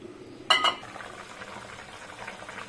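Water simmers in a cooking pot as ridge gourd fritters are prepared, a low bubbling murmur that continues throughout, broken early by a brief, louder clink of metal utensils close by.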